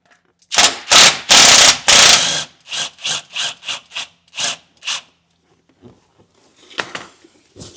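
A wrench works loose a 14 mm bolt and belt adjuster on the 1FZ engine of an 80 Series Land Cruiser: a few loud, long ratcheting bursts, then a run of shorter evenly spaced clicks, a pause, and a last faint ratchet.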